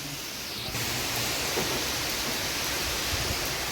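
Steady, dense rush of water falling outdoors on a sunny day, a continuous hiss that holds evenly throughout, close and loud with no voices.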